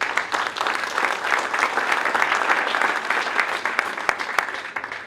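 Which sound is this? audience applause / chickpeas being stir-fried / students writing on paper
audience applause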